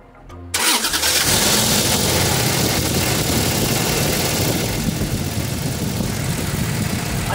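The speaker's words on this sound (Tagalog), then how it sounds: "Bago papatayin, subukan muna natin i-start yan." A Toyota Hilux engine cranks and catches right after a spark plug change, then settles into a steady, loud, close idle that continues to the end.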